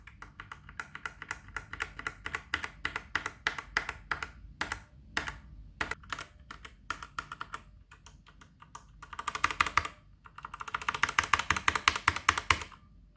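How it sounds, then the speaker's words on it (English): The Outemu Brown switches on a VortexSeries VX5 60% mechanical gaming keyboard click under rapid, uneven presses, soft at first and building to denser, punchier bursts of clacking near the end. "how the keys sound with the Outemu Brown switches. Here I am going from very light presses to quite punchy hits"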